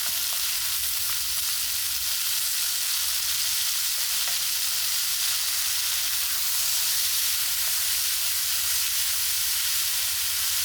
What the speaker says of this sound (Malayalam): നമ്മൾ അത് ഇടിച്ചക്കയും വൻപയറും ചേർത്ത് ഇനി നന്നാക്കി ഇളക്കിയെടുക്കാം.